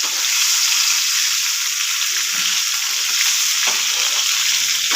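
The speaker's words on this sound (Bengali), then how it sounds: "জিরে দিয়ে একটু জিরেটা ফোটা পর্যন্ত রাখলাম" Cumin seeds sizzle in hot ghee and mustard oil with white oil and fried potatoes for aloo besan curry, a steady bright frying hiss with faint crackles, close and continuous, no talk.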